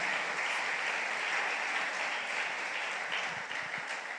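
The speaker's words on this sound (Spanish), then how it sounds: "Denle un aplauso al Señor." A church congregation applauds continuously in a sustained, dense wash of clapping, steady and fairly loud throughout with no talk over it.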